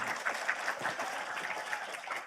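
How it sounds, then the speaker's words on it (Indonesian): A crowd claps steadily at a gathering at an Islamic boarding school event, a dense, moderately loud patter that holds without any talking. "Tepuk tangan dong sekali lagi."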